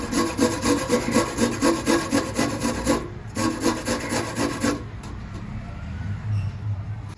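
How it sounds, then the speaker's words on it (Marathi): Fresh amla and raw turmeric are rubbed hard against a large hand grater in quick, rhythmic rasping strokes, close and loud, with a brief pause midway before the strokes resume and fade out. "अशा प्रकारे मी मोठ्या चाळणीने किसून घेते."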